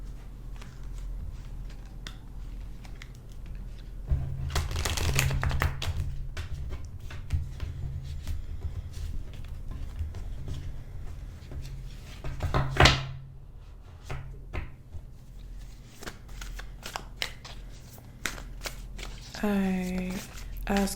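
Animal oracle cards being shuffled and drawn for an Aries tarot-style reading, with a papery riffling burst near the middle and scattered soft card handling under continuous speech.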